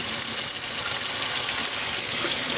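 Steady hiss of hot tap water running hard into a sink, constant and close, with no other sounds.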